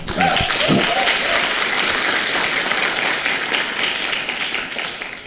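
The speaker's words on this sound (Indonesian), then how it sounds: "Tepuk tangan dong buat Anda" An audience bursts into applause at a prospecting seminar, a loud, even roar of many hands clapping that holds steady and tapers slightly toward the end, with a voice briefly heard at the start.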